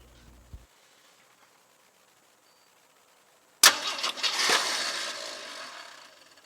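A Jeep SJ engine starting for the first time: near silence, then a sharp crank that catches into a loud, rough engine running unevenly and settling toward an idle.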